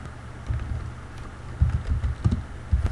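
Computer keyboard being typed on, with irregular clusters of soft keystrokes separated by short pauses, fairly close and moderately quiet, while a search term is entered in image-editing and search software.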